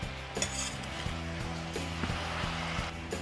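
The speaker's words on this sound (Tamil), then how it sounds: "காயிலையும் எண்ணெயும் மஞ்சளும் சேர்கிற மாதிரி நல்லா கிளறி விடலாம்." Kerala-style aviyal vegetables being stirred with oil and turmeric in a pan, making steady soft scraping and clinking of a spoon against metal, with a faint sizzle underneath and no talking.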